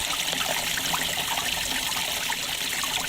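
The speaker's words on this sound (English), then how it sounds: "that's the sound of a large leak gushing out of a stone wall in Miramar's Manuka Street" Large water leak gushing from a stone wall on a street, a steady rushing and bubbling flow like a babbling brook, heard up close and continuous with no voices.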